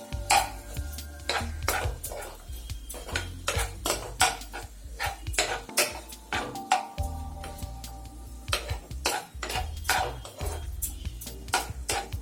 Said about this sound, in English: Mix it properly until the tomatoes become soft.